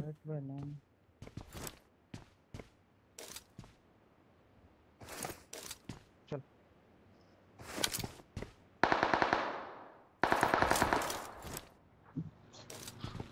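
Bursts of rapid gunfire from the mobile shooting game BGMI crackle in short volleys and single shots, with a few louder sustained bursts, while players talk over it.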